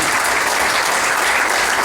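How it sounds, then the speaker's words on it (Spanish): Steady, dense applause from a live audience at a folk music performance in Santa Fe de la Laguna, loud and continuous with no pauses throughout. "Un aplauso para Angelita, ¿no les parece?"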